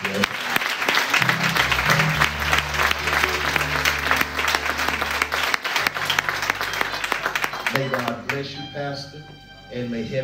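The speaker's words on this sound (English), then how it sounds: "Please join me in giving Pastor Donnie Hopkins a round of applause for God" A congregation at a funeral home-going service applauds in a steady, loud ripple of clapping, with organ chords and voices under it, thinning out toward the end as music continues.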